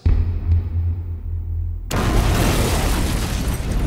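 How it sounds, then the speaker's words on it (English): An explosion sound effect for the battleship Maine blowing up in Havana Harbor: a deep rumble and boom, then a sudden loud burst that leaves a dense roaring blast of debris-like noise. "The battleship Maine blew up in Havana Harbor in early 1898."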